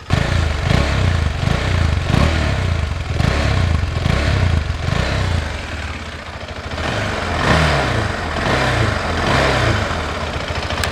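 A 2021 KTM 390 Adventure motorcycle engine revving loudly up close, throttle blipped repeatedly in rhythmic bursts before settling to a rumbling idle and revving again.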